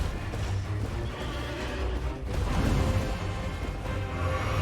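A horse in the video game Elden Ring whinnies amid rumbling game sound, a short neigh rising over a thick, steady low background of hoofbeats and ambience, fairly close and moderately loud.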